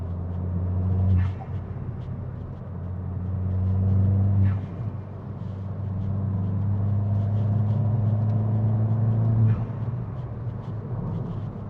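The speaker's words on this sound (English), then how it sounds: "the turbo noises are just phenomenal" A modified Ford Fiesta ST180 with a TRS Stage 2 tune drones and surges under load inside the car, with a low rumbling roar that swells twice and a faint turbo whistling whoosh riding over it.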